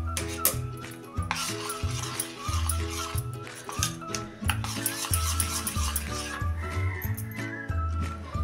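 Batter of millet flour being stirred in a bowl after a mustard seed and asafoetida oil tempering is poured in, soft scraping and wet slapping strokes repeating in an uneven rhythm, close up, over faint background music.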